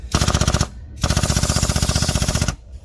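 A power saw cuts a rubber dock bumper for a trailer, giving a loud rapid rhythmic chatter in two runs, a short one and then a longer one, with a brief pause between.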